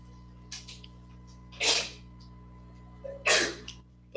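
Two sharp sneezes a couple of seconds apart, close and clear, with faint breathy sounds before them over a low electrical hum.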